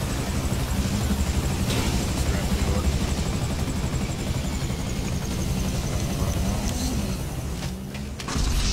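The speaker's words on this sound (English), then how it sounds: "Get to the chopper!" A helicopter in GTA 5 Online produces a continuous loud rotor and engine roar throughout, dense and steady, with brief shifts near the end.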